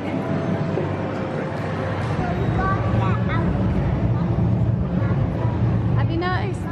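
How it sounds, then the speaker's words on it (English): Artificial train rumble from the ride area at Universal's Diagon Alley, a continuous loud low roar and clatter like a train passing overhead. Crowd chatter and brief squeaky tones mix in over it. "it still makes the train noise? I thought that was the actual train going over. But it's just fake noise"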